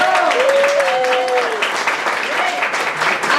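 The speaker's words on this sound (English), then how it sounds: "I think she needs to be applauded for that great effort." Applause from a crowd at a community breakfast, a steady wash of clapping with a voice speaking faintly over it near the start and end.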